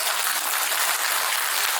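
At a regular general meeting of a Munhyeon 1 district redevelopment union, the audience claps for the union chairman, a dense, steady wash of applause that holds evenly through the short moment.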